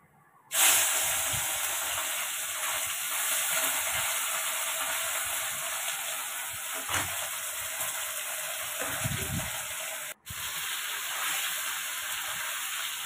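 Small kachki fish dropped into hot oil give a sudden loud burst, then a steady broad hissing fry that holds close and even for over twelve seconds, with one brief dropout near the end.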